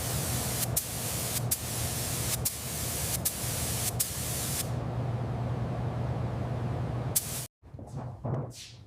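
Spray gun hissing paint onto a 1977 Lincoln Continental Mark V during restoration, a steady loud broadband hiss broken by several brief pauses, then cutting off before a few short trailing bursts.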